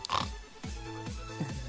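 A few short pig oinks and grunts in a video game, close and slightly synthetic-sounding, repeating roughly every half second.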